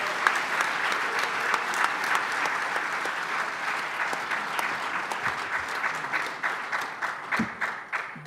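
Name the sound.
audience applause at debate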